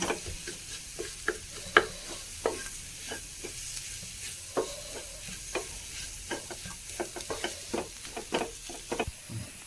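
A thick batter-like mixture being stirred in a pan for a tea-time snack, giving steady scraping and light clicking strokes over a faint sizzle with no one talking.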